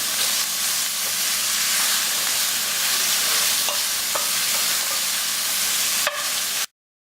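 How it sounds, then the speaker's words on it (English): Onions fry in a pan, sizzling steadily and loudly up close with occasional clinks of a stirring spoon, until the sound cuts off abruptly near the end. "Stir it until they go golden brown."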